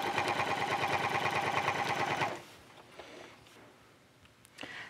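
A sewing machine stitches steadily in a fast, even rhythm while machine quilting, then stops after about two seconds, leaving a quiet room with faint small clicks.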